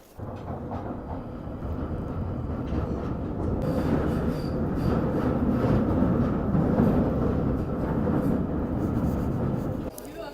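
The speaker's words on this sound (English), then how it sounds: "So now I'm getting a train back from a stop that I'm in Finchley Central" A London Underground tube train rumbles along the rails near Finchley Central, a loud, steady roar of wheels with faint rhythmic clatter, swelling in the middle and cutting off sharply at the end.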